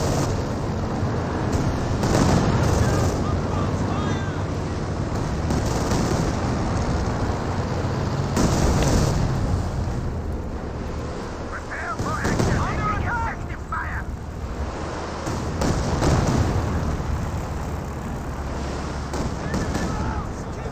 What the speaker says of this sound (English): Does get some nice suppression there with another strafing run